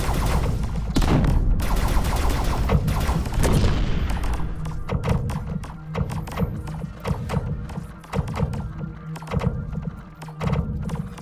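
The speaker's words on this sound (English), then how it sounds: "My shields are getting shot at." Rapid bursts of sci-fi gunfire strike a spaceship's shields in a space video game, dense and loud at first, then continuing as scattered, uneven impacts.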